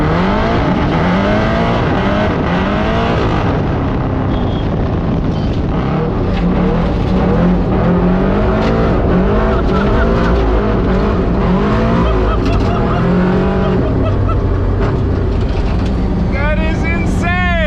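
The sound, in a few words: LS V8 swapped Miata race car engine and tires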